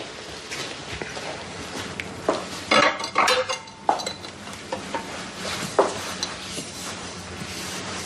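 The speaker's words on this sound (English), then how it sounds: "let's do the dishes." Dishes, pots and cutlery clink and clatter irregularly in a home kitchen during washing up, with bursts of louder knocks among a running background wash.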